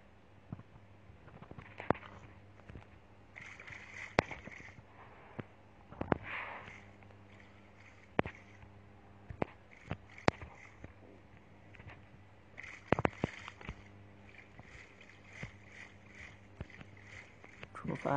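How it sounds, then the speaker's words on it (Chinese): A small boat is rowed in the video game Minecraft, with quiet, repeated splashy paddle strokes and scattered sharp clicks spread across a long stretch. "上小船，出发了"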